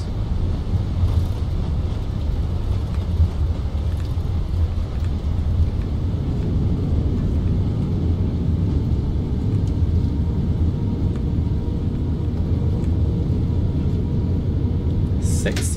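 Airbus A320neo applying reverse thrust after touchdown at Stansted in Microsoft Flight Simulator, a loud continuous broadband engine roar and rumble sustained throughout.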